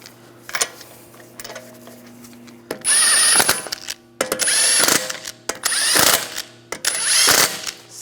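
Power tool whirring in four loud bursts, spinning lug bolts onto a BMW 328i wheel, with fainter clicks before the first burst.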